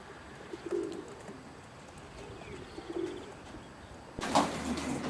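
Racing pigeons coo inside a 20-foot, three-section young bird loft, soft repeated coos spread through the clip over a low ambient hum, with a louder burst of bird noise and fluttering near the end.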